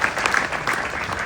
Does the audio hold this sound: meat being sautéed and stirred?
no